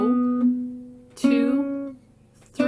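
Fingerpicked acoustic guitar playing a beginner 12-bar blues pattern, thumb plucking single notes on the second string, three clear plucked notes each ringing out and decaying, close and alone.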